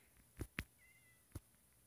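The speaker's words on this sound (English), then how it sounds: "I hear another cat." A cat meows in the Minecraft video game, three short separate calls with a gap before the last, fairly clear against a quiet background with a faint high tone in between.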